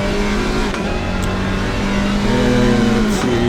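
A Porsche GT4 race car engine accelerating at Zolder, a loud sustained close engine drone climbing in pitch with a brief dip, steady throughout.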